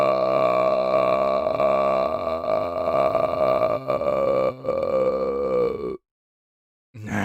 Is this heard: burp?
yes